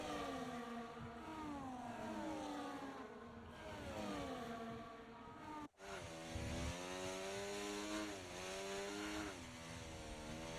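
Racing car engines in a racing video game drone through a wet formation lap at the Japanese GP, steady buzzing tones rising and falling in pitch as the cars rev, a sharp momentary dropout midway, moderately quiet throughout.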